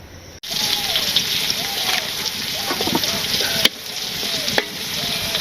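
Pointed gourd frying in a pan gives a steady, loud sizzle with stirring and scraping throughout, plus a few sharp clicks and clatters, in a village kitchen.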